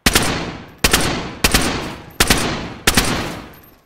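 Five loud, sharp bursts of gunfire ring out in a video game of DayZ, spaced evenly about half a second to a second apart, each with a decaying tail, and no talking.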